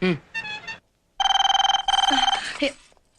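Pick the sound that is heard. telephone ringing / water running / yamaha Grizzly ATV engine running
telephone ringing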